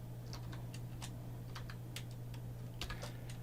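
Computer keyboard typing, a run of light, quick keystrokes in irregular rhythm, close and fairly quiet over a steady low electrical hum, with no talking.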